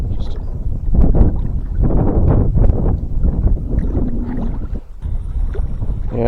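Wind buffeting a microphone on a lake while bass fishing from a boat, with heavy low rumbling gusts throughout as someone talks over the noise.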